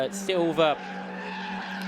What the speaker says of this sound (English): There was lots of tyre squealing, and it didn't seem to end